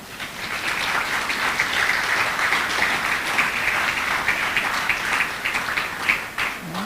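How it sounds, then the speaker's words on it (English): Steady applause from an audience at a secondary school debating competition final, sustained clapping at even loudness throughout, with no talk over it. "we want to applaud the speakers for that confidence and for those great deliveries"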